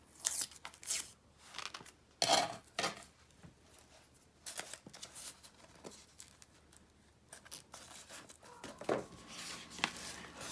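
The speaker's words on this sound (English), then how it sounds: "tear this part off because I don't want that" Brown paper being torn and picked off a Dollar Tree book by hand, heard as irregular short rips and crinkles up close, quiet overall with pauses between bursts and no talking.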